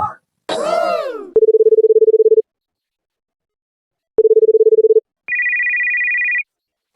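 A telephone rings with electronic ringtone beeps: a short swooping tone, then two bursts of rapid low pulsing beeps separated by silence, and finally a higher buzzing tone. The sound is clear, close and loud.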